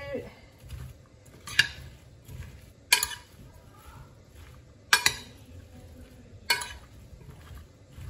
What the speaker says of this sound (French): on remue.